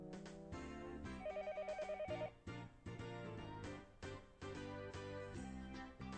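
A telephone bell rings in short repeated trills over loud background music, fairly faint and steady, then gives way to the music alone.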